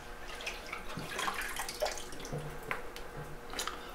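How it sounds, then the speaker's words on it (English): Water squeezed out of a sponge into a bucket during pottery chores, a few uneven splashing and trickling bursts close by, with no talking. "I'm getting as much water off of it as I can into the bucket."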